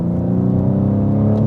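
A BMW M car engine pulls hard under acceleration, a steady loud close-up drone with a low rumbling tone, heard alone without talk.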